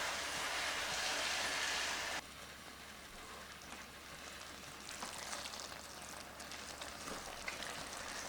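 Caramelized onions cook in a pan for Sri Lankan seeni sambol, giving off a steady, dense sizzle that grows a little busier midway, with no voices.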